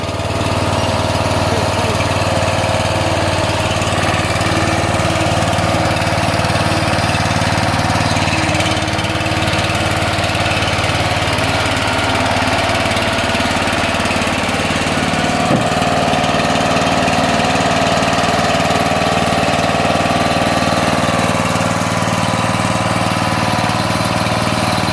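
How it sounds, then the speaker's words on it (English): A lawn tractor engine runs loud and steady, close by and alone, with a constant mid-pitched drone and vibration while the machine is driven up ramps onto a truck. "We are going to run the lawn tractor."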